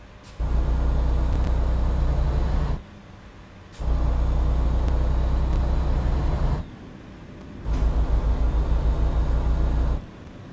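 A Western Star semi truck's engine drones loudly and steadily while driving, the deep rumble cutting out briefly twice before resuming.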